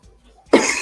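A single abrupt cough bursts out after near-silence, loud and close, during a mushroom farm tour.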